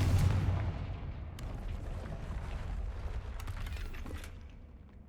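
A Confringo spell explosion in the game Hogwarts Legacy opens with a heavy low boom that decays into a rumbling, crackling tail, fading over about five seconds with no talking.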